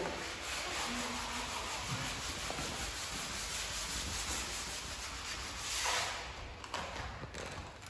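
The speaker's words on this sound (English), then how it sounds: "still sanding his PVA" Steady abrasive rubbing of sanding dried PVA glue on a parquet floor runs continuously at close range, a coarse scraping hiss with occasional faint knocks.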